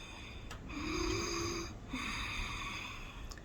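Ujjayi breathing through a constricted throat gives a close, hissing, ocean-like rush on the inhale and exhale, in two slow breaths, heard alone.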